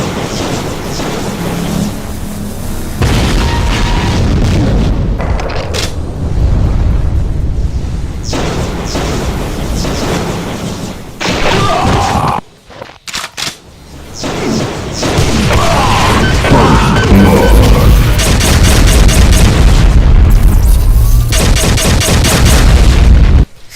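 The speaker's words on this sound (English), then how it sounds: "the Demon Tech Devastator shot" A Demon Tech Devastator shot in a modded DooM game erupts in a long, loud, continuous barrage of explosive blasts and crashes, dipping briefly in the middle before surging back into dense, rolling booms.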